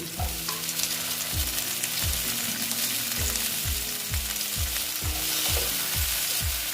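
Chopped tomato frying in a pan, with a bright continuous sizzle over a regular series of dull thuds like a spatula stirring and tapping, close and fairly loud, with no talking.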